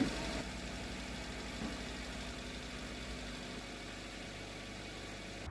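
A car engine idles quietly and steadily after being started, a low even hum with slight vibration that carries on throughout without change.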